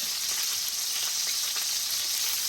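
Steak searing in a hot pan, a steady close, loud hiss and sizzle with faint crackles throughout and no voices.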